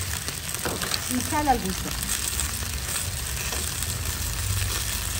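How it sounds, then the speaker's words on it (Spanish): Chopped onion and garlic sizzle steadily in a pan with browned chicken, a constant frying hiss with a faint stir, while someone talks over it. "ahora le vamos a agregar la cebolla que ya cortamos. Le vamos a agregar el ajo"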